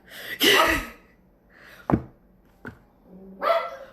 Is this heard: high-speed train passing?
no